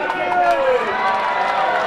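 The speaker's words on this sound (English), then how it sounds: "A really happy crowd." A happy football crowd at a Devils versus Dockers game roars and cheers steadily, a broad sustained wash of voices with a whistle-like tone sliding through, loud and continuous.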